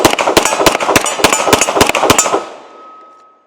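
A Glock 17L Gen 5 pistol fires 115 grain 9mm rounds in a fast, loud string of roughly a dozen close shots with slightly uneven spacing, then a ringing tail and quiet.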